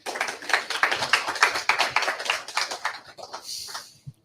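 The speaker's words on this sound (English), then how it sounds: "So give yourself a round of applause." An audience at a quarterback club gathering supporting Florida A&M gives a round of applause, a dense, lively clatter of many hands that holds steady for about three seconds, then thins out and ends with a single last clap.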